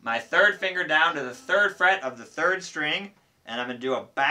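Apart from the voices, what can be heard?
None of the usual background noises is heard.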